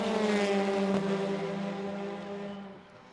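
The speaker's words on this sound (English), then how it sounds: "Starting to hear some tire noise in the carousel in the keyhole as well." A Hyundai TCR race car on Kumho tires runs through the carousel and keyhole at Mid-Ohio, its engine a sustained steady drone that holds, dips slightly and fades, loud and fairly close with no talk.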